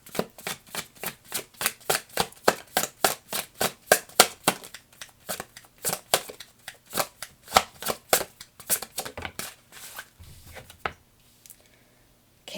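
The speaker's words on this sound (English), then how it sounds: "I already saw that while I was shuffling also." Tarot cards are shuffled in quick rhythmic bursts, a long run of crisp riffling snaps close up, slowing and thinning out toward the end before quiet.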